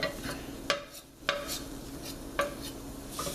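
A fork pulls apart fully cooked chicken in a pan over low heat, with soft scraping and a few sharp metallic taps against the pan over a faint sizzle.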